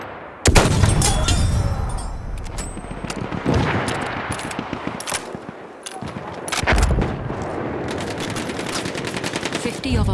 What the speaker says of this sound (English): Enemy machine gun sight! Machine gun! One of theirs!